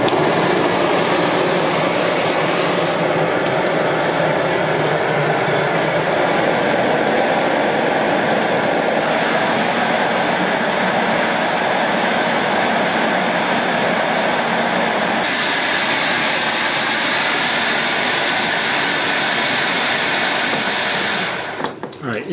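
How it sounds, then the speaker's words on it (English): A Bulin 6800W remote canister stove burner roars steadily at full output like a small jet engine, a loud continuous broadband rush that holds for about twenty seconds before cutting off near the end. "Little jet engine. All right, Bulin 6800."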